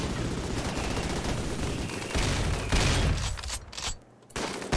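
Rapid gunfire in the video game Rimworld, bursts of shots and loud fusillades rolling continuously, with a brief lull near the end before firing resumes.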